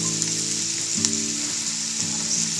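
Vegetables sizzle in a hot pan for beef bourguignon, a steady close frying hiss with soft scrapes and clinks as they are stirred, no voices.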